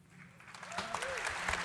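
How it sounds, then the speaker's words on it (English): Audience applause at an Overwatch 2 presentation event, a crowd clapping that swells from faint to steady, dense clapping, with a voice briefly speaking over it. "Let's get some claps."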